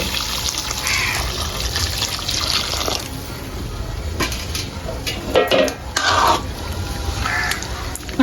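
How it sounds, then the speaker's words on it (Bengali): Hot water is poured into a pan of fish curry made with a large sea pangas fish, a running splash and trickle amid clinks of pots and utensils, with crows cawing outside. "এখন দিয়ে দিব পরিমাণ মতো পানি এখানে কিন্তু গরম পানি দিচ্ছি"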